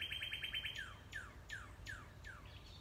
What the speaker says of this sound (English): check out that bird